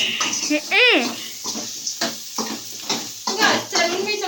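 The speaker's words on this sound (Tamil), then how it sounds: "மீன் குழம்புக்கு வந்து வறுத்துட்டு இருக்கிறேன் மிளகு தெரிச்சிரு போகுது" Spices and pepper for a fish curry sizzle and spatter in a hot pan, crackling in short bursts while someone talks over the cooking.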